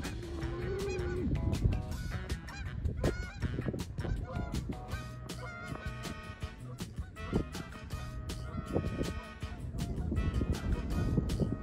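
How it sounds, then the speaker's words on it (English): A flock of geese honk loudly and repeatedly, overlapping calls close by, with some rustling and a faint voice underneath. "We've got some geese."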